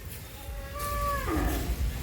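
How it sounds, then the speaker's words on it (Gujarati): Cattle in a shed with cows and buffaloes resting after feeding; a single faint, brief moo rises and bends down in pitch over a low, quiet background. "પાછા તબેલે અને ગાયું ભેંસું બધા જો નીણ ખાઈને આરામ કરે છે"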